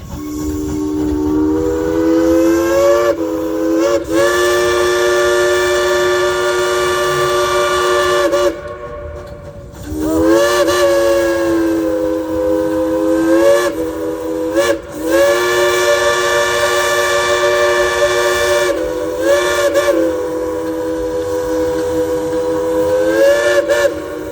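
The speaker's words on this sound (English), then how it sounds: "Would y'all like to hear the engineer play a tune on that Crosby three-chime whistle?" A loud Crosby three-chime steam whistle on Dollywood Express locomotive #70 sounds in long blasts with short breaks, its chord holding steady then cutting off and restarting several times.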